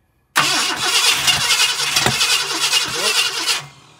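A 1966 Ford Galaxie with a 7-litre engine cranks and catches, running rough with sputtering pops back through the carburetor for a few seconds, loud and close, before cutting off.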